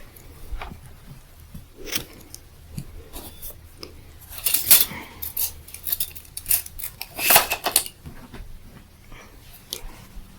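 Scissors snip through knitting yarn for a slipper project, a few quick close blade closures with light handling rustle between cuts, heard alone without talk.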